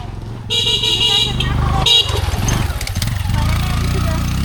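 A motorcycle ridden on the hill road from Alikadam toward Mirinja Valley gives a steady engine drone, with two loud horn blasts and voices talking over the ride.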